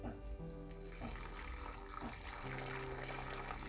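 Water pours steadily onto an okra plant, a constant splashing hiss heard close, with a voice talking over it.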